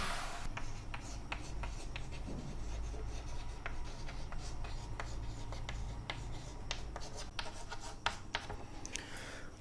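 Pen scratching on paper as legal terms are written out by hand, with a continuous close, soft scraping and frequent short strokes. A low steady hum sits underneath.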